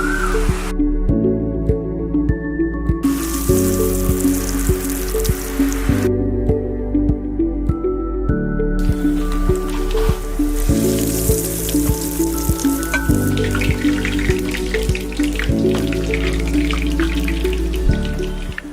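Egg-dipped, breadcrumb-coated prawn cutlets fry in hot oil, a loud, close, steady sizzle with dense crackling and popping that runs without pause from start to finish.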